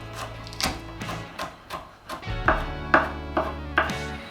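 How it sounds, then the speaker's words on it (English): A knife chops crushed garlic on a board in quick, close, rhythmic strikes of about a dozen, with light tapping clicks and a faint steady hum beneath. "Give it a little extra crush and then start chopping."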